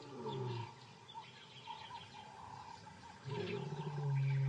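White lion roaring from some distance in open bush, a deep rumbling roar that swells and repeats over several seconds with faint bird calls in the background.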